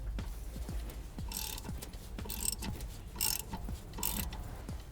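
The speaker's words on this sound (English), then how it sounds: "we just need a 7mm Allen key, and we can remove those guide pins" A 7mm Allen key works brake caliper guide pin bolts loose during a brake disc and pad change, giving repeated metallic ratcheting clicks with four louder scraping bursts spaced about a second apart, close and steady.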